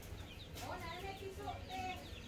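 Brahma chickens cluck and murmur nearby in short, overlapping calls on a farm, over a low background rumble.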